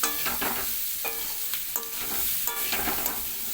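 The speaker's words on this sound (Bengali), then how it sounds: "এটা জিরের গুঁড়ো এটাকে ভালো করে সবজির সঙ্গে মাখিয়ে নেব" A spoon stirs cumin powder through pumpkin and potato curry frying in a pan, giving repeated close scraping strokes over a steady sizzle of hot oil.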